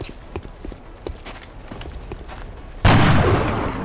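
A weapon fires at an alien in XCOM: Enemy Unknown (2012) with a sudden loud blast that lingers and tails off slowly. Light tapping footsteps come before it.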